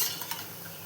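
Ginger urad dal vadas made with husked urad dal being lifted out of hot frying oil: a soft, steady sizzle with a few light scrapes and stirs of a utensil, quiet and close, with no talking.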